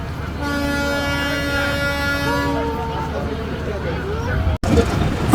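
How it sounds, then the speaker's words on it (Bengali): A passenger train pulls out of Pukuria station on the Faridpur–Bhanga line, its horn sounding in long steady tones for several seconds before the rumble of the moving carriages takes over, close and loud. "আমাদের ট্রেন পুকুরিয়া থেকে ছেড়ে যাচ্ছে।"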